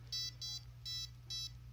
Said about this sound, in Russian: Вот каждый загорание лампочки и писк – это влетевшая частица, то есть импульс